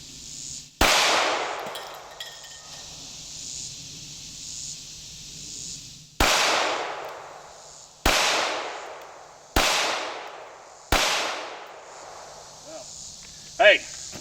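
Five sharp, loud gunshots from a Glock 17 Gen 5 9mm pistol fired at cinder block and aluminum targets outdoors: one shot, a long pause, then four more at steady intervals, each with a ringing decay.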